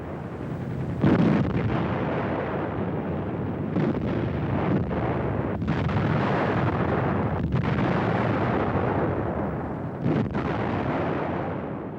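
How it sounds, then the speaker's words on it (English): German 105mm FH-18 field howitzers of WWII firing: a dense, continuous roar of gunfire with several sharper booming blasts standing out, loud and close throughout. "these 105mm gun crews had to load and fire their guns day after day"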